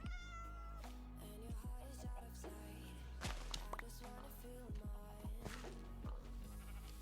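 A cat in Minecraft gives repeated, close meows mixed with busy game sounds and dull thumps, with no speech.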